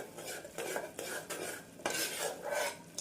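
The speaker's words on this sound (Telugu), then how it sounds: "ఈ కారం అలానే అల్లం వెల్లుల్లి పేస్ట్ మొత్తం కూడా బాగా కలిసేలాగా ఇలా కలుపుకుందాం ఒకసారి." Chili powder and ginger garlic paste being stirred together in a pan for an aloo and chana dal curry, giving repeated close scraping and clinking strokes of a utensil against metal, with no one talking.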